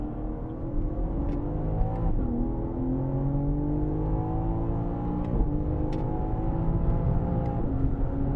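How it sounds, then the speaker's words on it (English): A BMW M car on the Sonoma Raceway track accelerates hard, its engine note climbing through repeated rising sweeps as it shifts up, loud and close from inside the car with no talking. "Back to power, up over the rise here"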